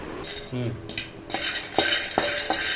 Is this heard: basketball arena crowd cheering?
no